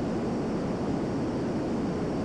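A fighter jet engine in the VR flight game SimplePlanes VR gives a steady, broad roaring rush with no variation, loud and constant for a couple of seconds without any voice.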